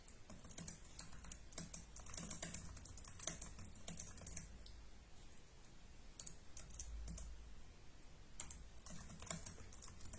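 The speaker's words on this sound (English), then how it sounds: "I'm going to type to her a bit." Someone types on a computer keyboard close by, with irregular bursts of light key clicks and short pauses in a quiet room.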